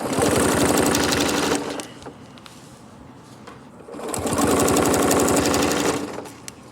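A machine stitches a Celtic knot design in two loud, steady bursts of rapid stitching, separated by a quieter pause for repositioning.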